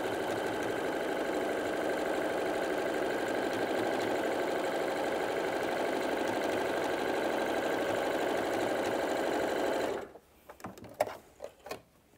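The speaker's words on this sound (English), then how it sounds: "So just sew a straight line all the way across the top." A sewing machine runs steadily for about ten seconds, top stitching a straight line across fabric for a pocket on a BBQ roll mat, with a smooth, even mechanical hum before it stops and a few faint handling clicks follow.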